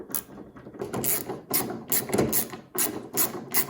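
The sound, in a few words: ratcheting thumb drive speed wrench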